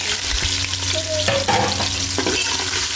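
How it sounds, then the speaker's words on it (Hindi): Onion hits hot oil already frying cumin, cloves and black pepper for mutton biryani, giving a steady loud sizzle with a brief stirring scrape partway through, no voices. "हम इसमें एक मीडियम साइज़ का प्याज डालेंगे।"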